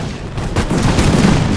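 Massed musket volley in an Anglo-Afghan War battle game, a dense crackling burst of gunfire that swells and rolls on steadily, loud and close, with no voices over it.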